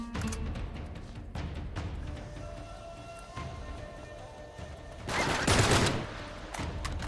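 Video game gunfire in Uncharted 3: Drake's Deception, scattered sharp shots with a dense, louder burst of rapid fire partway through, over a low game ambience.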